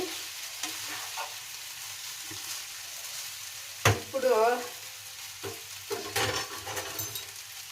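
Vegetable fried rice with mushrooms is stirred in a small pan over a low, steady sizzle. Intermittent scraping and clinking strokes of the spoon are heard, with no talk.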